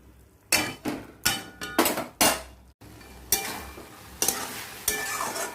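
Kochur loti (taro stolons) cooked with spices and a splash of water, stirred in a pan with a utensil; a series of loud, close scraping and clinking strokes against the metal pan, with a quieter sizzle between them.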